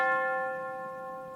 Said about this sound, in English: put this tubular bell in as well